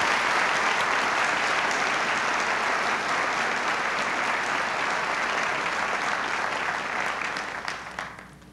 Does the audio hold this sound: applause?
yes